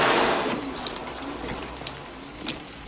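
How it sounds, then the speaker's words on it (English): Rain pouring in a movie scene, a dense hissing wash of water that is loudest at the start and eases slightly, with a couple of brief splashy drips standing out near the end. "Accurate weather predictions? Right now, it's pouring rain."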